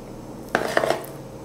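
Cake batter for an eggless homemade cake being scraped into a round pan greased with oil, a few short clinks and scrapes of utensil against the pan in a quick cluster.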